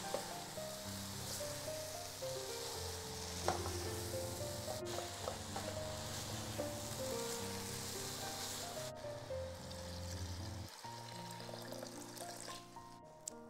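Wet cassava leaves sizzle and crackle steadily in a hot pan, with soft stirring scrapes and a sharp clatter near the end, under a layer of background music.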